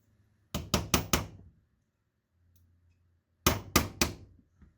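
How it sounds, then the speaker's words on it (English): Sharp metallic taps from a small mini hammer driving a pin out of a Planet Eclipse Emek paintball marker, two bursts of four quick close strikes separated by a quiet gap. "I've got my little mini hammer here. Actually, can I start it?"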